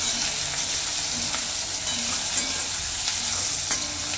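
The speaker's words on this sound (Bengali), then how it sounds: "পেঁয়াজটাকে দিয়ে এবার আমি লঙ্কা দিয়ে দেবো, কাঁচা লঙ্কা, শুকনো লঙ্কা আর 4টে টমেটো দিয়ে দেবো। দিয়ে এটাকে ভালোভাবে আমি নেড়ে নেব।" Onion, green and dried chillies and tomatoes stir-fried in a pan, a steady close sizzle with soft scraping strokes of a spatula repeating throughout, no voices.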